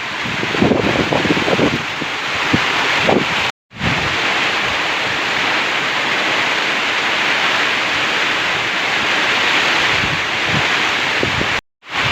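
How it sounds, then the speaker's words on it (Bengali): A sudden rain and wind storm at a turkey and chicken farm, loud dense rushing rain with gusting wind roaring close to the microphone, steady throughout with a couple of brief cuts and no talk. "এরকম বৃষ্টি বাতাস দেখেন হঠাৎ করে আইসা পড়ছে"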